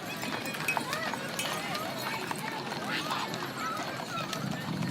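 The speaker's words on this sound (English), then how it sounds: "There's some horse riders." Horses walk past in a small-town Christmas parade, their hooves clip-clopping steadily on pavement amid a murmuring roadside crowd, with voices chattering throughout and occasional snorts.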